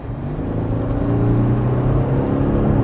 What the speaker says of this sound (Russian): На разгоне тут слишком навязчивый рокот